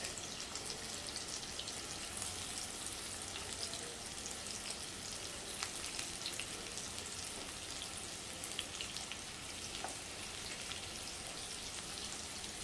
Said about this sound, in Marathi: खरपूस अशी फ्राय झाली आहेत. आता उलटून घेते